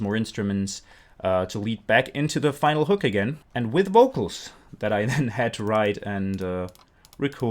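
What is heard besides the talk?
No everyday noises stand out.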